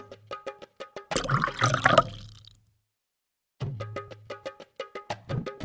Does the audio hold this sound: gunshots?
no